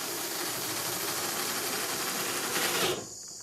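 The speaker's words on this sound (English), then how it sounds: "to tidy the job up with a little stitching screw, you just wind it in there," Stitching screw being wound into gutter guard sheets with a power driver, a steady close buzzing whir lasting about three seconds before cutting off.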